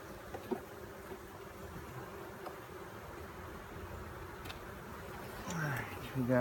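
Honeybees buzz around a beekeeper during a hive inspection, a faint continuous drone with a few bees whining close past near the end, under quiet background noise.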